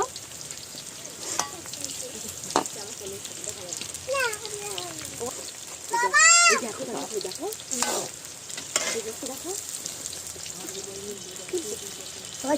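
Chicken pakoras frying in oil at an evening picnic, a continuous sizzle with stirring and scraping, heard under people talking.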